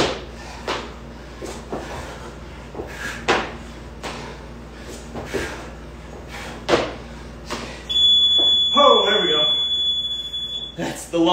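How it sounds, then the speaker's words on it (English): A workout interval timer gives a long, steady electronic beep near the end, after a run of dull, evenly spaced thuds from exercise. "That's the long beep you've been waiting for."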